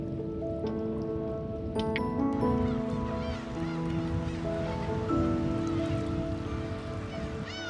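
Black-tailed gulls call on rocky Dokdo island, many overlapping honking, nasal cries layered into a loud, continuous colony chorus.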